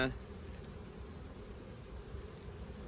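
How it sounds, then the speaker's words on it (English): A dense, steady drone of honey bees buzzing at a hive, close and continuous with no pauses. "there's a ton of bees"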